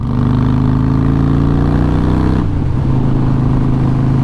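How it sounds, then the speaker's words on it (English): A rebuilt 2009 Harley-Davidson Sportster 1200C rides along a gravel driveway, its loud, close V-twin engine holding a steady throb before the tone shifts abruptly near the midpoint as the revs change. "So, who says you can't ride Harleys in gravel?"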